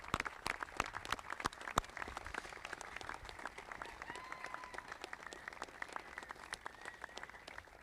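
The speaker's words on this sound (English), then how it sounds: "please stand up and give these individuals a big applause" Applause from a seated audience at a Hall of Fame induction ceremony, steady dense clapping with sharp individual claps standing out, sustained and fairly distant across the whole stretch.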